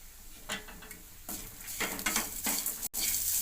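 Chopped onion sizzling in a hot pan while being stirred, a steady frying hiss with soft scraping strokes and a few clinks of the utensil against the pan, close and alone.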